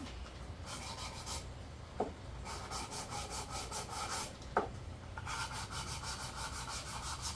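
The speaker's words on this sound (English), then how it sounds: "this is my little sander buddy I got" A small handheld sander rasps against splintered wood ends in steady, rhythmic close-up strokes, with a couple of sharp knocks breaking the scraping partway through.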